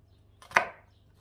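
A single crisp knife chop through onion on a cutting board in a home kitchen, one short close knock against faint room hum.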